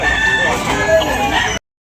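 A rooster crows at a busy Sunday chicken market in Tabunok, Talisay, Cebu, its call ringing loud and close over crowd noise and faint background voices before cutting off abruptly.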